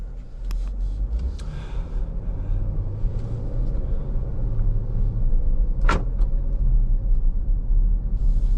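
A 2020 Jeep Grand Cherokee Limited X on the road, a low steady engine and road rumble heard from inside the cabin, with a brief sharp click or thump partway through.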